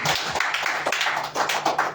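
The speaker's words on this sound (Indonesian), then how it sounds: "Beri tepuk tangan buat Tuhan." A church congregation at GKKI Penabur Benih Sukabumi claps hands together in a steady, rhythmic pattern, a full crowd sound close and fairly loud over a low hum.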